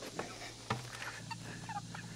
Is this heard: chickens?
yes